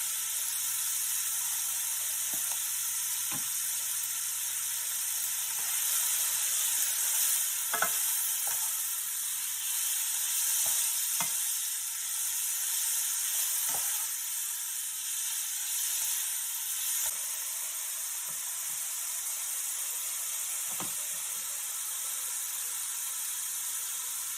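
An egg fries in a pan for chicken fried rice, giving an even, continuous sizzling hiss with occasional light pops and spatula taps, close and steady with no voices.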